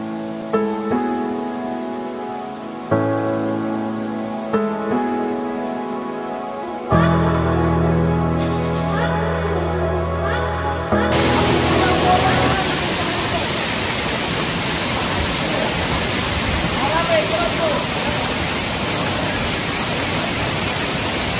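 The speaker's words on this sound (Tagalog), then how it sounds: "Bale dito dumadaloy yung tubig na sa waterfall, sa kasunod na waterfalls na malapit doon sa campsite." Rushing water from a mountain waterfall near a campsite on Mt. Kiadangat in Aurora, first partly masked by tonal hum and music-like layers, then a loud, steady broadband roar of flowing water.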